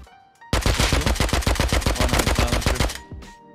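Rapid automatic gunfire in the game Rust, a loud close burst of evenly spaced shots lasting a few seconds, followed by a few fainter trailing reports.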